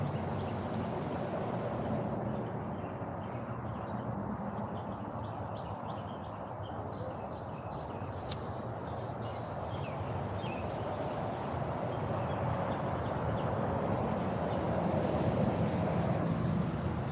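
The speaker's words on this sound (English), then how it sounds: "Crazy to hear all the birds chirping and whatnot." Birds chirp faintly and sporadically in the distance outdoors on a cloudy day, small high calls scattered over a steady low wash of open-air background.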